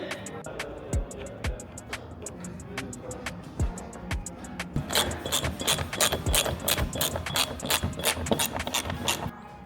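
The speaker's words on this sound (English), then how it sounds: "So we're just going to bolt these in now." Ratchet clicking while bolting carbon fiber wing legs onto an Audi TT RS, quick sharp ratcheting clicks in bursts, close and clear, growing denser and faster toward the end.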